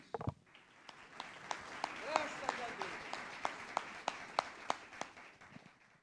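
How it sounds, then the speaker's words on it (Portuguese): A church congregation claps in an evenly spaced rhythm, with sharp distinct claps under a softer wash of hand noise and voices. "A salva de palmas para Jesus"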